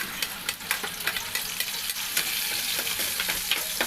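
Garlic and onion sizzle together in a hot pan, giving a steady frying hiss broken by frequent crackles and pops, with occasional stirring, close and continuous with no talking.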